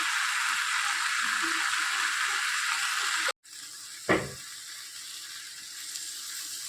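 Spices frying in a pan for a kolai bean curry give off a steady, close sizzle while being stirred; the hiss briefly cuts out, then a single utensil clank against the pan sounds and the sizzling resumes.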